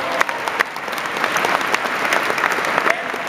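Audience applauding a graduating class at a commencement ceremony, with dense, steady clapping from a large crowd and a few sharp claps standing out, continuing throughout.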